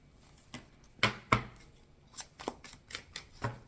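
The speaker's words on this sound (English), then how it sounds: "Let me shuffle these" Tarot cards are shuffled by hand in a quiet room, giving soft irregular riffles and taps, a few sharper slaps among them, close and faint with no talk.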